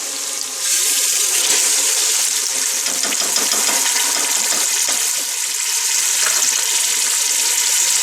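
Whole black masoor lentils hit hot frying masala in a pan, setting off a loud, steady hiss and crackle that runs unbroken for several seconds, with no talking.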